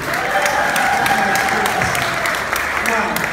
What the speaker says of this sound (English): This is the applause cue.